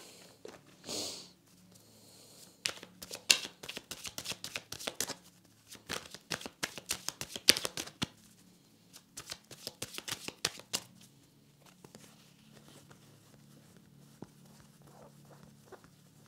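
Tarot cards are shuffled close up in repeated riffling bursts separated by short pauses, the flutters fading out toward the end with no speech.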